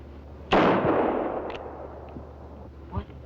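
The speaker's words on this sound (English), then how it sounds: "What was he shooting at?" A single loud gunshot fired at a target on a post outdoors, a sharp crack followed by a long fading echo, with faint later knocks.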